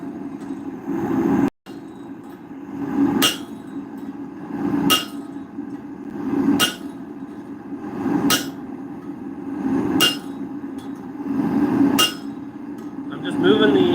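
A ball peen hammer forges a blacksmith-made mulling iron, rounding the metal with evenly spaced, sharp ringing strikes about every second and a half, each standing out loudly over a steady low hum.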